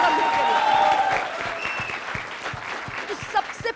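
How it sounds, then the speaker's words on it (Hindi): Studio audience applauds cricketer Kapil Dev on a TV show, loud dense clapping that gradually thins and fades, with a faint voice heard near the start. "और जोरदार तालियां कपिल देव जी के लिए।"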